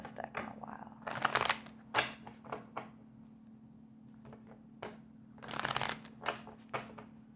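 A tarot deck is shuffled close by, with quiet crisp riffling bursts in an irregular rhythm and soft pauses between them, set against a faint steady hum.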